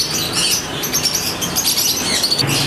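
A pair of pet lutino birds in a cage gives high, busy chirps and tweets with some wing flutter, close and fairly loud, continuous throughout, with no talking.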